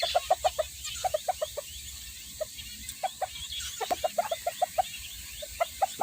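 Chickens, a hen and her chicks, cluck in short, repeated bursts close by, with a few irregular clucks and faint rustling between them and no talking.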